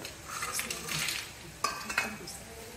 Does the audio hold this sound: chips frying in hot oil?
yes